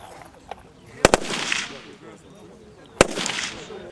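Sharp automatic rifle shots crack out in a few quick bursts at a military training range, close and loud, each followed by a short echoing decay over faint background voices.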